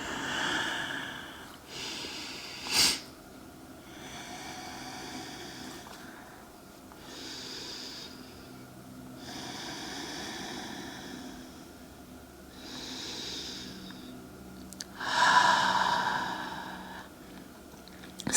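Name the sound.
deep breathing during yoga flow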